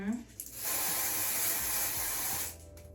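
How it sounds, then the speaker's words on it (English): Tint spray is misted onto wig lace in one continuous hissing burst of about two seconds, close and fairly loud, with short quiet gaps before and after. "We're gonna use our tint spray."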